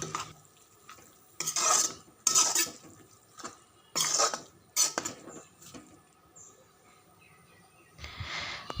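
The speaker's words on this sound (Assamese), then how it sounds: "ভালদৰে লৰাই দি এতিয়া মই ইয়াক ঢাকন দি ভালদৰে সিজিবলৈ এৰি দিম।" A spoon stirring a pot of small-fish curry with outenga pieces, giving several close, separate scraping and clinking bursts against the metal with quiet gaps between them.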